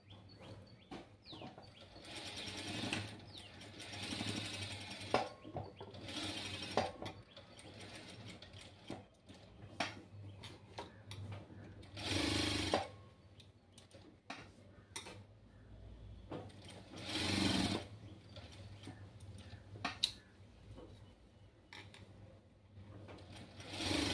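A sewing machine stitches the neck of a child's gathered frock in short, uneven bursts of rapid mechanical whirring and clicking, separated by pauses and handling noises, with no speech.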